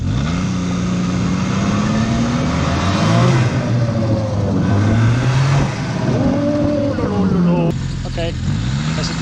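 The engine of a 2004 Arctic Cat Bearcat WT snowmobile, recently fitted with a new fuel pump, revs up and down in loud, close swells, with a voice talking over the running motor.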